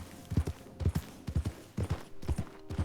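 Horse hooves in Red Dead Redemption 2 clip-clopping in a steady, close, regular rhythm of paired beats, fairly quiet, with no talk over them.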